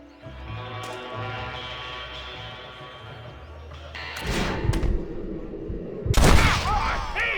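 Gunfight in Red Dead Redemption, with sharp gunshot bursts and crashing impacts breaking out midway over a low game score, loudest blasts near the end.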